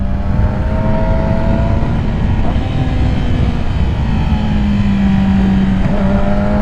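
A 2007 Yamaha YZF R6 sport motorcycle accelerating out of a corner, heard as a loud, steady engine drone with faint rising tones buried under heavy wind rush, continuous and close.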